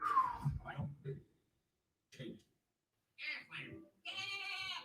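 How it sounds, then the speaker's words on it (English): A goat bleats in short wavering calls, separated by silent gaps, right after a television announcer's voice. "Is that a goat?"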